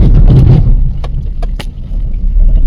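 Car driving slowly over a rough, uneven road toward the Kalmandavi waterfall, a steady close engine rumble with a few sharp knocks and clatters from the bumpy surface.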